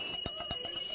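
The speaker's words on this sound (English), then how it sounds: "Ringing the bell." Salvation Army bell ringer's hand bell, a quick series of bright metallic rings with clean sustained overtones, fairly faint and heard alone.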